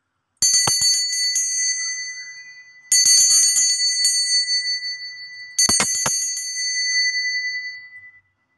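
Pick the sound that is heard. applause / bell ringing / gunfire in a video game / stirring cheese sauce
bell ringing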